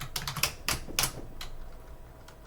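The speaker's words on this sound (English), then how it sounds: "Type in my password here." Password being typed on a computer keyboard, a short burst of several sharp, close key clicks in an uneven rhythm, then a couple of isolated taps fading into quiet room tone.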